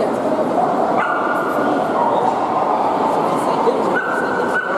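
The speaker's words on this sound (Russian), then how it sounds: "Они стоят беленькие собачки." Several dogs bark and yip at a crowded World Dog Show in Moscow, with border collies and Akitas among the breeds, all against a steady din of crowd noise and nearby chatter.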